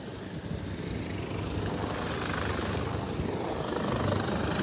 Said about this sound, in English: L'elicottero che ci venga a prendere.